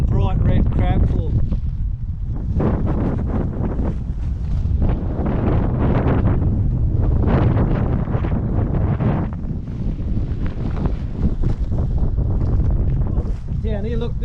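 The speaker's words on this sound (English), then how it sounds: "I'll come over here out of the wind" Wind buffets a microphone on a beach strewn with marine debris, a loud continuous low roar with gusts throughout, covering nearly all other sound.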